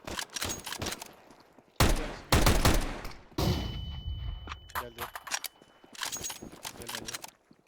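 Gunfire sounds in the video game Counter-Strike 2: sharp single shots and loud rapid bursts, with players talking excitedly between and over the shooting.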